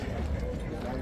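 Horse hooves clip-clop at a busy horse market in Namangan, a quick uneven patter of hoof strikes heard under people talking and a dense crowd murmur.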